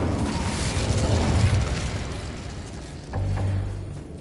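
An Incendio fire spell bursts in the Hogwarts Legacy video game: a roaring, rumbling blast swells and subsides, then a second loud whoosh of flame erupts near the end, both close and full-bodied.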